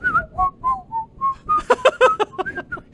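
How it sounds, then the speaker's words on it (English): A person whistles a lively tune up close, starting with a string of short, clear notes and moving into a quicker, busier phrase with some breathy accents. "wish I could whistle so bad"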